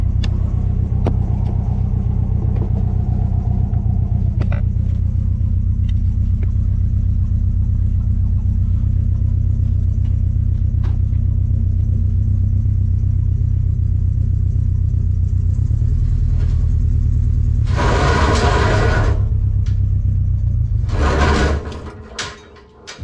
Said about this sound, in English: So we're going to use this old Geo Tracker, and we're going to see what we can do here.